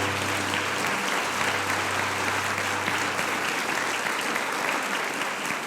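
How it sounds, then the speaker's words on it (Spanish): A church congregation claps together in sustained, dense applause that holds at an even level throughout, with no talking over it. "Vamos a darle un aplauso al Señor."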